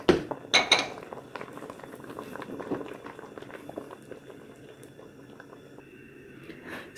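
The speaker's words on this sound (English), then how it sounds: "I'm going to turn the heat off and move it over to my canning station" A pot of cooked tomatoes is shifted on a kitchen stovetop to a home canning station: a few loud metallic clanks and scrapes at the start, then quieter clinks and soft handling noises.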